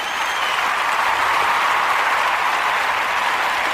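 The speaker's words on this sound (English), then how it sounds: "let's give myself a round of applause" A round of applause from a crowd, a steady dense patter of clapping hands that holds at an even, fairly loud level throughout.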